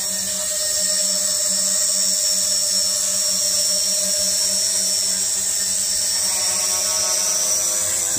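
A Snaptain SP600N GPS FPV drone hovers at idle, giving off a steady, loud high-pitched whine with a constant motor hum beneath it that lasts the whole stretch without letting up.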